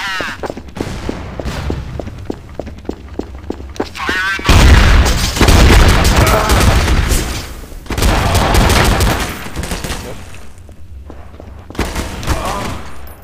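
A grenade goes off in Counter-Strike on the de_dust map, a heavy booming blast that follows bursts of gunfire and sustains a loud rumbling tail before more shots crackle.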